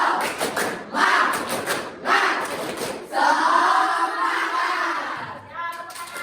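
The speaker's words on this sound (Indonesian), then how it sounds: "Ya. Tepuk semangat." A Year 8 classroom of students performs a rhythmic spirit clap in unison, bursts of sharp claps in quick patterned groups with shouted calls between them, close and lively.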